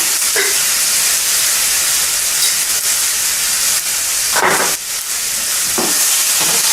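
Pineapple sizzling as it is stirred and roasted in an electric cooker, a constant loud frying hiss with a few brief scraping stirs cutting through near the end.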